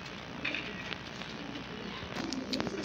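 Saleti Kamagar breeder pigeons give soft, low cooing calls near the end, faint beneath a steady background hum and a few scattered brighter chirps.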